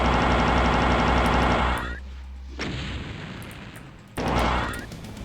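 Enemy gunfire and heavy blasts in the video game Doom 2: loud booming shots that cut off abruptly, a quieter stretch, then another loud burst near the end.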